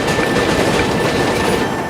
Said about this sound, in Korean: 이렇게 저승으로 향하는 열차.